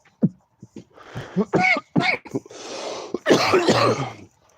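A run of harsh coughs and throat-clearing bursts, close to the mic, coming in irregular clusters with short gaps between them.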